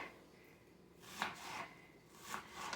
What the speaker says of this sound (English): then just make even slices